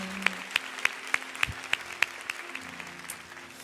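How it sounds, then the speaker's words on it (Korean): A church congregation claps in unison during a Sunday worship service, a steady rhythmic beat of sharp, evenly spaced claps that sounds fairly distant and soft before trailing off. "우리 다시 한번 주님 앞에 감사와 찬양과 영광의 박수 올려드리겠습니다"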